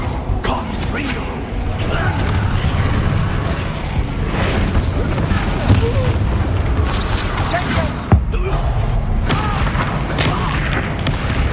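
Explosive fire spells in Hogwarts Legacy go off as repeated booms and bursts over a dense game soundscape of creaks and mechanisms, with a sharp blast near the end.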